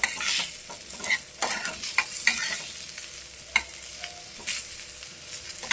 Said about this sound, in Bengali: দেখুন এই আলুটা ভেজে নিচ্ছি